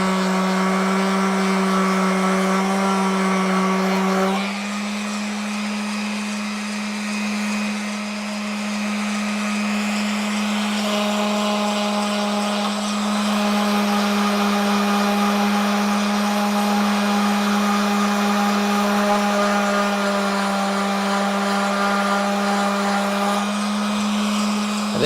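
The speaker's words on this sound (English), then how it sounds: "I think this sandpaper pad is starting to go, dudes." A power sander with a worn sandpaper pad runs continuously, a loud steady motor whine with a slight pitch shift partway through, alone and without talk.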